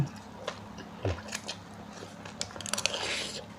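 Crunchy vegetables bitten and chewed alongside a spicy Thai seafood papaya salad with shrimp, close to the mic, giving scattered crisp crunches and wet chewing clicks over a quiet room hum.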